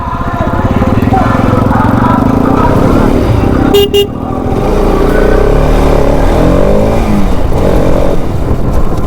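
A loud motorcycle engine drones steadily near the mic, with a brief break before the exhaust roars back up, under scattered background voices.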